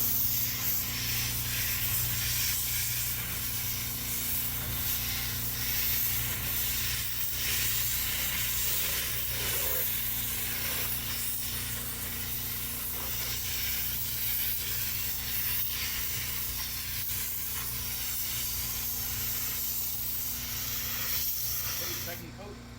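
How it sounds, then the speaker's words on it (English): A spray gun lays a wet-on-wet clear coat onto a Porsche Macan bumper during an outdoor mobile repair, a steady close hiss of spraying that runs continuously under a background hum. "now it's time for the clear coat. This is going to be a wet on wet clear coat."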